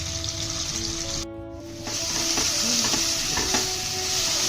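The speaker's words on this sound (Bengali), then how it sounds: "হালকা করে ভেজে নিতে হবে, একটু বাদামি বাদামি কালার হলে হবে" Soybean chunks coated in salt and turmeric sizzle loudly and continuously as they fry in a pan, close up, with a brief dip in the hiss partway through and faint stirring noises, without talking.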